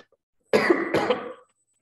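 Two quick, close coughs in succession, sharp and dry, followed by a short trailing breath, then silence.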